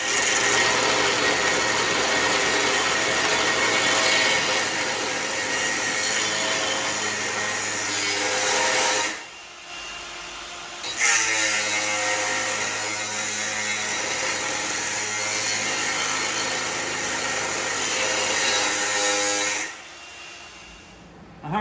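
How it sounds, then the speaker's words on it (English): An angle grinder scores tough steel on a 1974 Chevy Nova, a loud sustained high whine with two brief pauses where it spins down and restarts. "So I'm going to try the grinder for a little bit and see if I can score it first"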